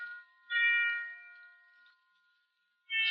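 Christmas bells ring in a radio drama scene, clear tonal chimes in two bursts with sustained ringing decaying between them, heard alone without talk.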